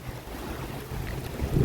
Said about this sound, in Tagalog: So ito yung parang yung monsoon rain, ang patak talaga nila.